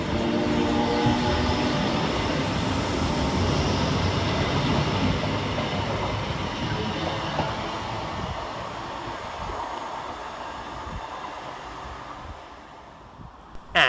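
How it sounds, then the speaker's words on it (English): Northern Class 331 electric multiple units arriving at Huyton railway station: a loud, steady rumble and rush of the train passing close by, slowly easing and fading toward the end. "And here comes our train in the form of"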